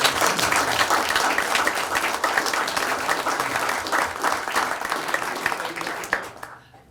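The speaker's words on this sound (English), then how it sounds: "a round of applause for this leader" Round of applause at a city council meeting, a dense crowd clapping steadily for about six seconds before fading out, filling the room with no talk on top.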